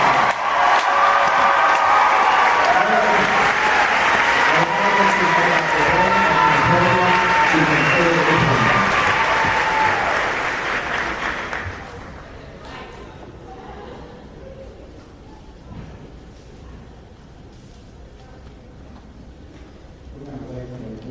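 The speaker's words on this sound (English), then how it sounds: "Let us give a round of applause for your class of 2025." A large audience at the Lake Oconee Academy Class of 2025 graduation ceremony applauds and cheers loudly for about ten seconds, then the clapping fades into a quieter murmur of the crowd settling.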